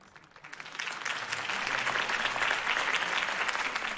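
Crowd applause for Harvey Dent's campaign speech in the video game Batman: The Telltale Series, rising quickly from quiet into a steady, dense clapping that holds to the end.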